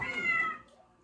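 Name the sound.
kitten meowing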